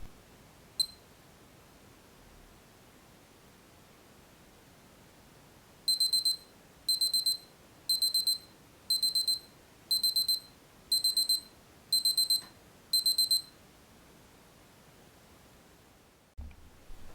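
A Casio LF-20W digital watch timer alarm beeps in eight short, evenly spaced bursts of high electronic chirps, thin and clear over quiet room hiss, preceded by a single button beep.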